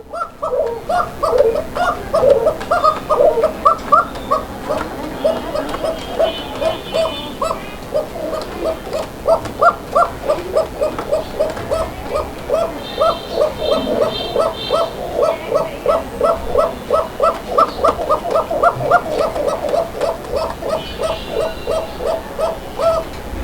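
Fancy pigeons coo close by in repeated rhythmic bursts, several birds overlapping almost without pause, with short higher calls now and then.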